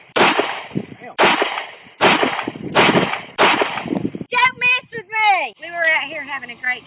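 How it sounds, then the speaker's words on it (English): Five loud 1911 pistol shots crack out at a shooting practice, evenly spaced about a second apart and ringing close, followed by a person speaking. "Having a great time today practicing with our guns, and I was learning how to shoot for the first time."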